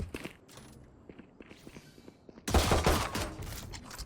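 Dense burst of gunfire erupting midway through a competitive tactical shooter esports match, loud and rapid after quieter footsteps and game ambience, with no talk over it.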